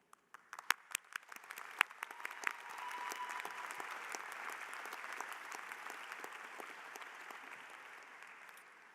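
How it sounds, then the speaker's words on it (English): Applause at a university convocation ceremony as degree candidates are presented, starting with a few scattered claps and swelling into sustained moderate clapping from the seated audience. "don't forget to clap, okay?"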